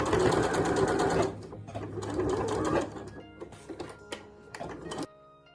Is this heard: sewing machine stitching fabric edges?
yes